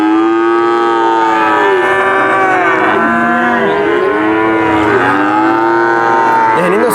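Cattle market on Jumat Pon market day at Pasar Sapi Pon Purwantoro, Wonogiri, where Limousin cross cows moo loudly and continuously. Overlapping calls from many animals come from near and far over a dense market din.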